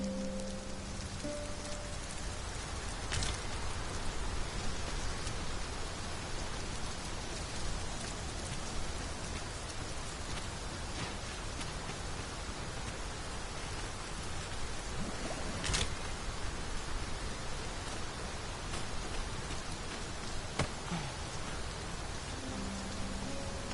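Steady, even rain in the video game Dragon's Dogma 2 pours down throughout, a dense hiss of drops on surfaces with no voices, continuous and fairly close.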